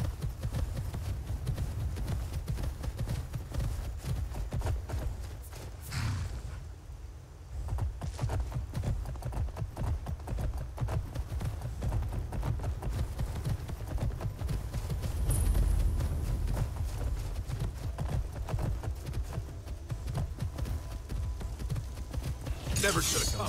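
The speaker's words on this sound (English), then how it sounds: "I might be able to cover more ground on a horse." Steady clip-clop hoofbeats of a horse galloping in the video game Skyrim run continuously over a low rumbling background, briefly pausing partway through.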